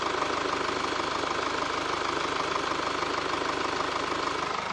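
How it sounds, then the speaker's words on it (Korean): A Mercedes E-Class diesel engine idles steadily and close, a constant low rumble with a faint clattering knock, no voices, unchanging throughout. "바로 엔진 소리 한번 들려 드릴게요."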